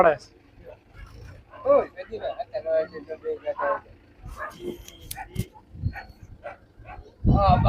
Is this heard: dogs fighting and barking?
yes